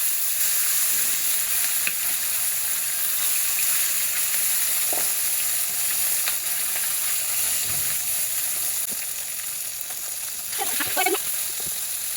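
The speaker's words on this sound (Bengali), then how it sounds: "তো চলো মাছটা ভেজে নিই ভালো করে সরিষার তেল দিয়ে দিলাম" Fish sizzles in hot mustard oil with a constant crackling hiss, and a few soft clinks and stirs come near the end.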